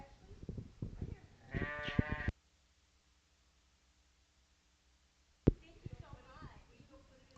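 Sheep at a wool and meat breed show at the Colorado State Fair bleat in a wavering, moderately close call amid show-ring bustle and a judge's voice, followed by near silence and then more talk and shuffling.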